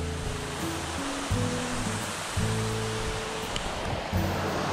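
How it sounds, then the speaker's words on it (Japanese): Marugami Falls in Saitama pours in a dense, steady roar of falling water that fills the space, with soft tonal notes drifting over it. "ここも滝なんですよ。"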